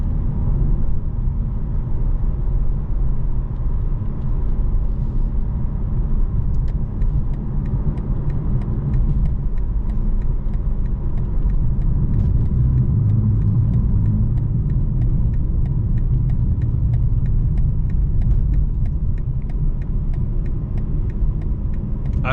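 A 2025 BMW M4 Competition xDrive drives on Atlanta-area roads at night, its engine and road noise forming a loud, steady low rumble from inside the car, with no talking.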